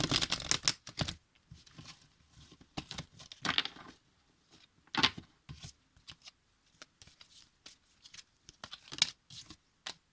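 Playing cards shuffled by hand in a quiet, whispered setting, a series of crisp riffling flutters and soft slaps repeating in separate bursts, close and intimate with no talk over them.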